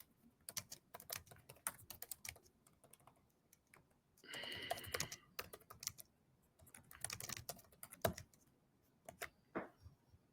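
Rapid, irregular keyboard typing with clattering keystrokes in bursts and short pauses, close and moderately loud, no voices.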